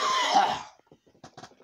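A hoarse cough from a person with a sore throat and phlegm, one rough burst near the mic up front, followed by faint scattered throat and mouth noises.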